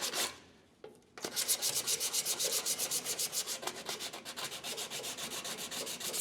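Sandpaper rubs back and forth over the steel floor pan of a 1970-81 Camaro to expose spot welds, a steady rhythmic scratching of quick even strokes, close and fairly quiet, with no talking.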